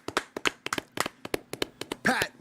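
A handful of people clap their hands at close range, about a dozen separate sharp claps in an uneven rhythm, followed by a brief voice near the end.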